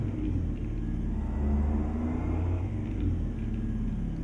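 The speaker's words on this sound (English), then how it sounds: "Excuse me for accelerating on your scale" A 1978 GMC Astro truck in American Truck Simulator accelerates on a weigh scale, its deep engine rumbling steadily and building slightly, loud and close throughout with no talk.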